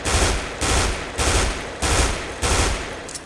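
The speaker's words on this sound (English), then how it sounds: "Now that is me on fully automatic 2-shot burst." Rifle fire in the video game Counter-Strike: Global Offensive, delivered as repeated two-shot bursts: five loud, sharp clusters of gunfire at a steady rhythm, each separated by a brief gap, with no voices.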